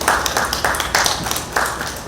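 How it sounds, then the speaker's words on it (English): An audience at a women's institute activity group meeting claps to welcome a speaker, a short, fairly loud round of applause with distinct pulses of hand claps. "let's welcome her with a lusty round of applause this morning"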